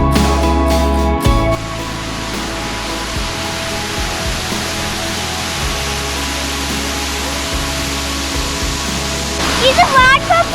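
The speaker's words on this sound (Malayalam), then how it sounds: "ഇത് വാട്ടർഫോൾസ് ആണ്." Lumsdale waterfalls near Matlock pour with a steady broadband roar of falling water, while someone speaks over it at the start and a bird chirps near the end.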